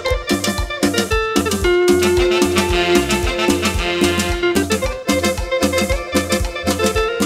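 A recording of a song plays loud and full, with a steady driving beat, pulsing bass and bright melodic guitar lines throughout, with no talking over it.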